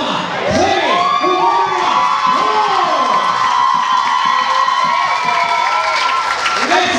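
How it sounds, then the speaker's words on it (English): Crowd at a women's boxing event cheering and whooping for the winner after a first-round referee stoppage, loud and continuous, with high shouts and voices rising above sustained roaring noise throughout. "Let's have a round of applause again for Cheryl and Clemmie."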